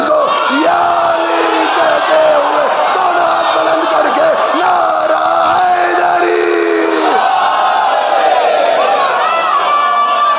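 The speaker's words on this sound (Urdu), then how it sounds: "دونوں ہاتھ بلند کر کے نعرہ حیدری" A large religious gathering at a Shia mosque celebration roars the Naara-e-Haidari slogan in unison, a loud, sustained collective shout filling the hall with overlapping voices and cheering.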